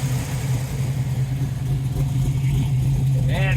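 A 1978 Nova with a 406 roller V8 and solid lifters runs with a steady lumpy rumble close by, then blips upward in a quick rev near the end.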